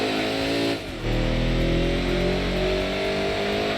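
TVR Griffith in the Gran Turismo 2 video game, its engine revving steadily and loud, with a brief dip in revs before climbing again, harmonic drone continuing throughout without voices.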